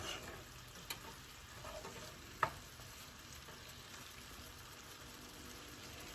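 Garlic and vegetables sizzle steadily in a skillet while being stirred, a soft continuous frying hiss with one brief scrape of the utensil partway through.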